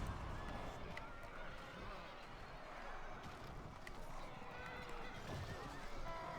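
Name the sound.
cavalry horses in battle, from a video game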